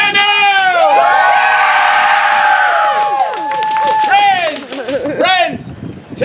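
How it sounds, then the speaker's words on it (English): Theatre audience at a Shakespeare-themed children's show cheering, whooping and hollering loudly, a dense wash of voices rising and falling, with clapping and stomping mixed in underneath. "Hoot, holler, clap, cheer, stomp your feet, whistle"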